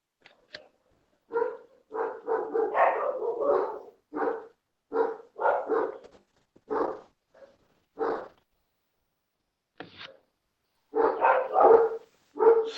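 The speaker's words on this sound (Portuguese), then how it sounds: "Só os cachorros se manifestaram" Several dogs bark repeatedly in irregular bursts, some clustered and some single, fairly close and loud, with quiet gaps between volleys and no talk.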